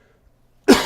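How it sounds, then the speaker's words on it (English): A single close cough from a person who has a cold, one sharp harsh burst that trails off after a second of near silence. "I'm still kind of coughing from the last week or so of having a cold"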